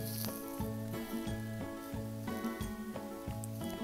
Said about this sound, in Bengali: আমার বেলে নেওয়া পুরিটা তেল গরম হয়ে গিয়েছে, আমি এখন পুরিটাকে দিয়ে দিলাম।